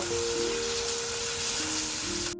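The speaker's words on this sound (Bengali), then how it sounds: "কাঁচা গন্ধটা যতক্ষণ না যাবে ততক্ষণ আমি একটু ভেজে নেব" Ground coriander and Kashmiri chili fry in a pan, giving a steady close sizzle with faint stirring for a couple of seconds before it cuts off.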